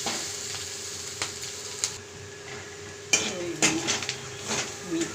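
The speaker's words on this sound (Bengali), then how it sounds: "আবার ডিমটা ভাজা একটু ভালো করে নেড়ে নেবো।" Soybeans and fried egg are stirred in a frying pan, with a steady sizzle under repeated scraping and clinking of a metal spatula against the pan, close and moderately loud.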